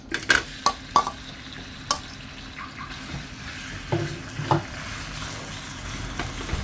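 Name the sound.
minced pork being stirred and stir-fried in a pan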